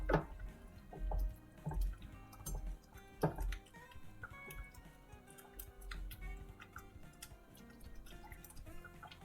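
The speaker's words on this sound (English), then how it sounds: "Let me stir that up a little bit." A thick bread stuffing mixture is stirred in a pot with a spoon, giving soft wet squelches and irregular knocks against the pot, close and fairly quiet, with no talking.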